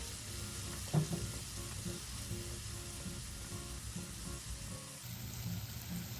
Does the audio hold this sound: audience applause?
no